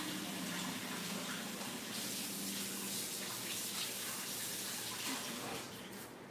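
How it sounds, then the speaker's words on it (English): Running tap water pours steadily over hands to rinse butter off, a broad continuous gush at moderate level that eases slightly near the end, with no talk over it. "gonna wash that butter off my hands"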